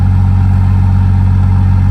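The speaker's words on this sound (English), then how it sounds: "Let me go shut that truck off" A big-block, cammed 1991 Chevy 3500 dually truck idling close by, a loud steady low rumble with an even pulsing beat and no voices over it.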